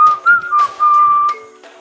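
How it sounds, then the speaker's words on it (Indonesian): A person whistles a short wavering tune, close and clear, in a few bright phrases that fade out at the end, narrating a scene in an Indonesian martial-arts audiobook. "Wiro segera meninggalkan Bukit Hantu sambil bersiul-siul."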